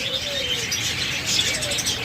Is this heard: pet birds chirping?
yes